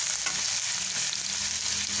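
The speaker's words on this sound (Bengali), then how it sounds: "ভেজে নেব যতক্ষণ না আদার গন্ধটা, কাঁচা গন্ধটা যায়।" Ginger sizzles steadily in hot oil in a pan for Bengali lau chingri, an even close frying hiss with faint stirring and no talking.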